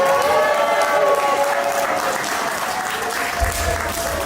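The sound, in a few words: wedding guests applauding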